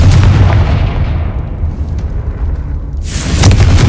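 Confringo explosive spell blast in Hogwarts Legacy: a loud, close booming detonation that rumbles and fades, followed by a second heavy burst near the end.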